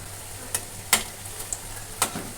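Jackfruit seed koftas fry in hot oil while being turned over, a quiet steady sizzle with a few sharp clicks from the turning spoon.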